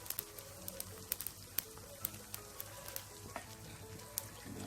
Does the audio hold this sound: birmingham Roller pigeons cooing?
no